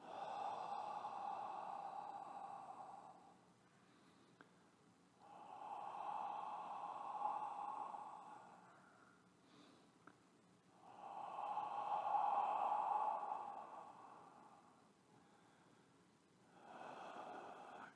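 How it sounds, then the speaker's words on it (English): Slow open-mouth exhales come one after another, each a long, soft, breathy whoosh lasting a few seconds, with quiet gaps between them, close and gentle. "do open mouth exhales"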